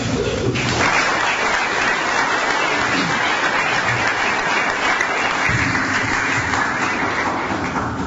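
Audience at an ASU event applauding as speaker Tom Cain is welcomed, a dense sustained clapping from a room full of people that starts abruptly and carries on evenly.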